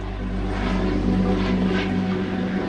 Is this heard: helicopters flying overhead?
yes